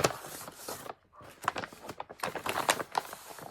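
A plastic bag crinkles while a crochet kit is opened, giving close, irregular crackling bursts with a short pause partway through.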